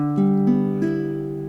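A few strummed chords from a baritone ukulele, warm and mellow, ringing out and fading after the last strum.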